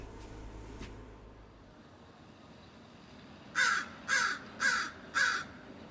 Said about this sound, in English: I noticed this crow up in the tree